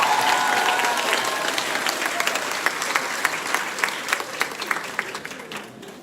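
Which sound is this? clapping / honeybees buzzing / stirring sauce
clapping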